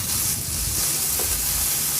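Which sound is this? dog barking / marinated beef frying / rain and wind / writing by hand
marinated beef frying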